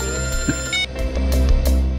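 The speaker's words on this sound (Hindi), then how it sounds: "तारिका जी का फोन" A telephone rings with a steady electronic ringing tone over a low background hum, continuing through the clip without any talk.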